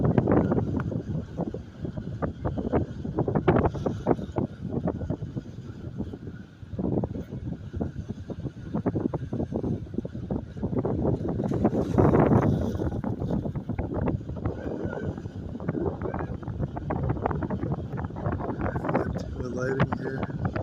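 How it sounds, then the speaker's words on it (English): Wind buffets the microphone outdoors, a continuous loud rumbling roar with gusts rising and falling, while a person talks through it. "Probably get a lot of sound of the wind here. That's probably what you're hearing now."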